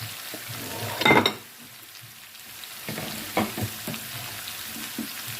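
Potatoes and spices for aloo bhujia being stirred in a frying pan, with a loud spatula scrape early on and later softer scrapes over a steady oil sizzle.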